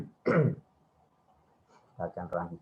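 A person clears their throat and coughs during an online entrepreneurship class, one harsh burst followed by a short pause, then a quick cluster of three rougher coughs, close and fairly loud.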